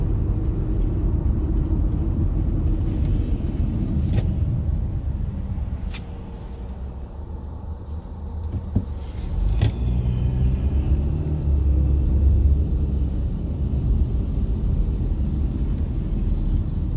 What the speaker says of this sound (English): somebody else just rolled up on the back of my damn car